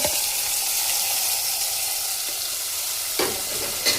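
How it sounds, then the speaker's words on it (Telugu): Cut tomato pieces drop into a curry made with drumsticks as it fries. There is a loud, steady sizzle throughout, and a brief thud and scrape of stirring comes near the end. "నెక్స్ట్ నేనైతే కట్ చేసుకున్న టమాటా ముక్కలను అయితే వేసుకుంటాను"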